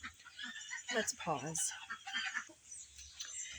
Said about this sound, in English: I apologize for the birds, they are having some drama over there.